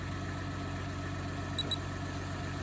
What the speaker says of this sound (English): engine's now started